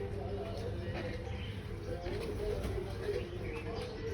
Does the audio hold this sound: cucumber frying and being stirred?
no